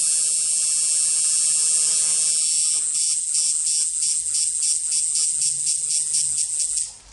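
A tattoo shading machine, tuned for a soft hit, runs steadily on its own, giving a continuous high, close-up buzz with a fine rapid pulse that holds for about seven seconds before cutting off.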